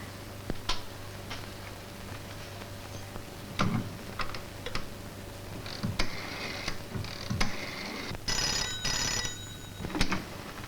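A telephone rings on an outgoing call, a steady tone with repeated ringing bursts and faint clicks over quiet room noise, with no talk.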